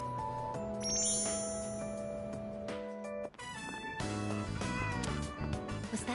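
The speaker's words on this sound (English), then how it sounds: "Was that a cat's meow?" A cat meows in the video game Persona 3 Reload, with short, tonal meows over the game's chiming, tinkling background music, fairly clear and without speech.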